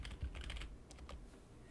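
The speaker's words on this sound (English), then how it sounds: "Make sure I'm typing it correctly." A short run of computer keyboard typing, a quick cluster of close key clicks that slows into a few scattered taps.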